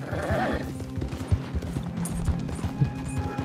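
Hooves clip-clop at an uneven pace as a horse runs in the Red Dead Online game, with a whinny at the start and soft background ambience throughout.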